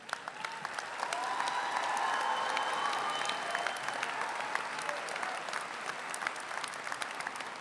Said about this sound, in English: Would you all just stand up for a moment of applause from your students?